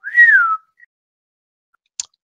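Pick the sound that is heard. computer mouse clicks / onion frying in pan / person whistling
person whistling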